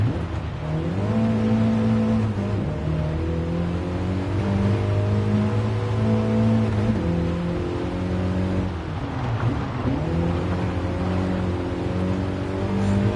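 A car engine in Gran Turismo Sport on PS4 VR revs and drones steadily, loud and close, rising through gear changes with brief dips and climbs and no speech over it.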